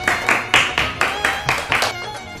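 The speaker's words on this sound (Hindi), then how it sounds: "जोरदार तालियों के साथ स्वामी बाबा का आभार व्यक्त करते हैं" Rhythmic group clapping at a BAPS children's devotional gathering: about eight loud, evenly spaced claps in unison, each with a short ring of room echo.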